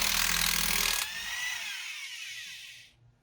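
A Black & Decker Bulldog power drill whirs at high speed for about a second, then winds down, its pitch falling as the motor coasts to a stop, fairly close and alone.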